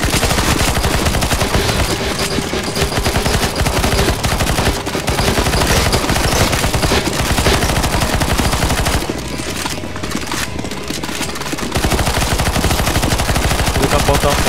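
Heavy gunfire from a CS:GO Zombies match roars almost without pause, with loud overlapping automatic bursts and constant shooting from several weapons, easing only briefly near the end.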